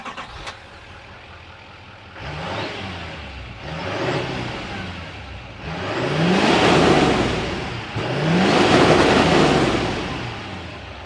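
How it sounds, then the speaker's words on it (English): A GMC Sierra 2500 AT4X diesel engine runs and revs in several rising surges, each swelling louder and falling back, heard close with no talking. "Because she's a diesel, let's see what it sounds like."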